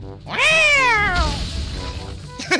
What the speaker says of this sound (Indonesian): Tadi kayak kucing kawin